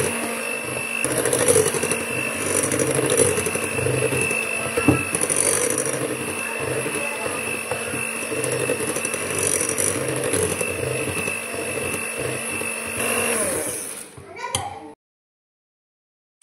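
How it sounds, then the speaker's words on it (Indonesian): An electric mixer beats cookie dough for Indonesian butter-style cookies made from a kilo of flour, giving a steady, close whirring hum with a faint rattle that runs continuously for about fourteen seconds, then cuts off. "Kita aduk sampai rata atau bisa menggunakan mixer supaya lebih cepat."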